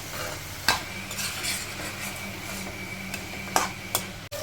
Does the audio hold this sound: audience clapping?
no